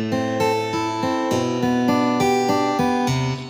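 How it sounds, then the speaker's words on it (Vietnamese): Electric guitar voice played on a keyboard: a steady run of plucked, sustained notes changing about every third of a second, with bright harmonics, loud and close, no talking. "Rồi tiếp theo đó là tiếng guitar điện."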